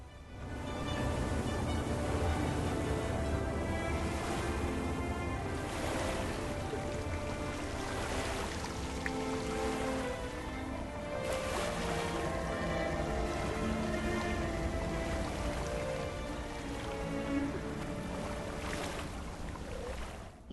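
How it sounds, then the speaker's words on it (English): Water in the Kessex Hills area of Guild Wars 2 makes a continuous, full wash of lapping waves and surf with a windy edge, steady for the whole stretch. "showing off the very pretty water effects"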